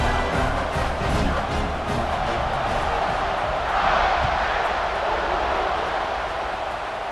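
Stadium crowd at a football game roaring as the teams line up for the kickoff, a dense, sustained wall of cheering that swells slightly midway and then holds steady.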